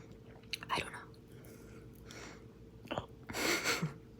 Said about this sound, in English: chewing sounds way louder in your head than it actually does